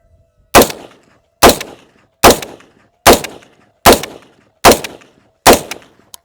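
A series of seven booming shotgun blasts firing buckshot at an FPV drone, evenly spaced under a second apart, each one ringing out with a brief decaying echo.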